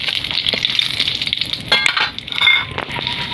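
Four bay leaves and two dried red chilies frying in a little oil in a pan for mutton curry, a steady close sizzle with light crackles and occasional stirring scrapes.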